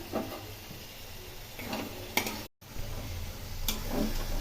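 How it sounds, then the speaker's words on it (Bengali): Bathua greens cooking with brinjal in a pan: a soft, steady frying hiss with intermittent scrapes and clicks of a spatula stirring, close and fairly quiet, with no talking. "এখন বারবার করে নেড়ে নেড়ে এতে শুকিয়ে নেব"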